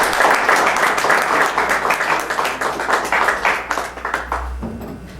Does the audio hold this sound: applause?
yes